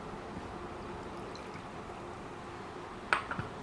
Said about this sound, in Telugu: కొంచెం నీళ్ళు పోసుకుందాం.